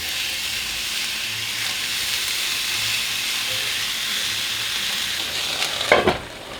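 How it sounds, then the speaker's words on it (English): Sausage pieces and onions sizzle steadily in a hot pan for chili, a constant close frying hiss with a brief clatter of stirring near the end. "I'm going to saute up these sausage pieces, saute up the rest of the onion"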